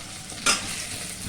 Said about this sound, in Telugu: నేను కళాయి వేసి ఫస్ట్ మనం బిర్యానీ ఆకు వేసుకొని బంగాళదుంపలు కూడా వేసుకొని కొంచెం ఫ్రైలో చేసుకోవాలి